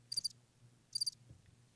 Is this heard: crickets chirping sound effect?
yes